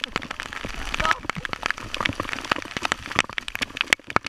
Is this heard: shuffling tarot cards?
no